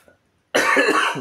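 After a short silence, a single loud, rough cough bursts out close up.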